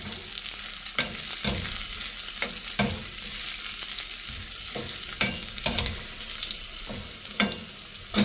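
Uttapam batter mixed with green chili and onion fries on a hot pan, a steady close sizzle broken by sharp scraping and stirring clicks, with no voices.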